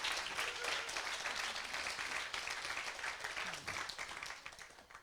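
Audience applause at a talk, a short burst of mixed clapping at moderate distance, fairly faint and steady before tapering off.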